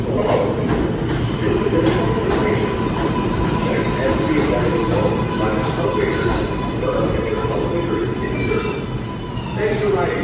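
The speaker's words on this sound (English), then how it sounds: "This is the Brooklyn-bound 5 express train." A New York subway 5 express train runs at Grand Central, with a steady loud rail rumble, squealing wheels and clicking track joints, and an announcement voice heard over it.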